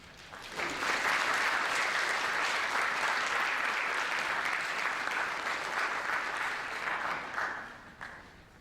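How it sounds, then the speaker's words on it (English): An audience applauding students at an academic symposium, a dense burst of clapping that holds steady for several seconds and then tapers off. "please give them a round of applause."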